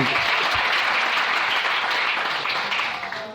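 A church congregation breaks into sustained, dense applause, loud and steady throughout before thinning slightly toward the end.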